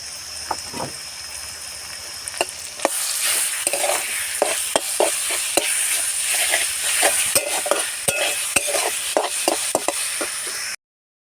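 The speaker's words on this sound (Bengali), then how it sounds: "আমি এবারে শাক সেদ্ধ করাটা দিয়ে দিচ্ছি" Boiled drumstick greens tipped into a pan of half-cooked frying vegetables, then a loud, close sizzle with frequent scraping and clacking of a spatula as the mix is stirred.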